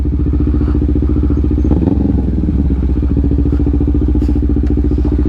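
Motorcycle engine idling steadily and close by as the bike is parked, a continuous low throbbing rumble with a brief clattering bump partway through, no talking.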